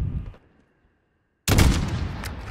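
Gunfire in Call of Duty: Modern Warfare: a short, loud burst of shots, a brief silence, then a sustained heavy volley of close, booming fire.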